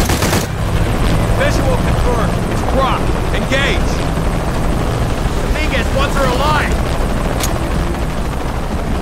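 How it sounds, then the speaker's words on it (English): A helicopter's steady rotor drone fills the clip, loud and close, with bursts of gunfire and shouting voices layered over it, in the video game Shadow of the Tomb Raider. "Always hated helicopters."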